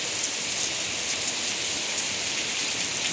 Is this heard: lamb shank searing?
no